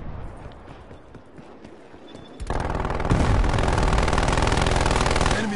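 A sentry turret in a video game opens fire in a sudden loud burst of rapid automatic shots after a quieter stretch of distant game noise, hammering on steadily to the end.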